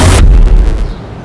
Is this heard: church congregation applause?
no